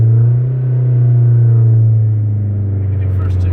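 Lowered Mazdaspeed 3 heard from the cabin during downshifts, a heavy low engine drone that rises and settles slightly, with a voice talking briefly near the end.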